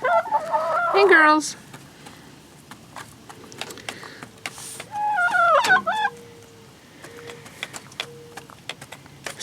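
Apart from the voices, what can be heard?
chickens clucking at feeding time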